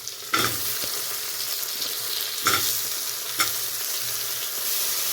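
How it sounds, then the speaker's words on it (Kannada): Mushrooms go into a hot pan of curry leaves for mushroom bath, giving a continuous close sizzle broken by three sharp clattering bursts as pieces drop in and are stirred. "ಈಗ ಮಶ್ರೂಮ್ ಹಾಕ್ಕೊತಾ ಇದ್ದೀನಿ."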